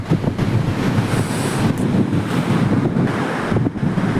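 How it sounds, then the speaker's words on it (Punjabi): A mountain river on the road to Badrinath, one that previously flooded, roars as a loud, steady wash of rushing water, mixed with gusty wind buffeting the microphone, with no voices. "ਇਹ ਉਹੀ ਨਦੀ ਆ ਜਿਹਦੇ ਵਿੱਚ ਪਿੱਛੇ ਹੜ ਆਇਆ ਸੀ"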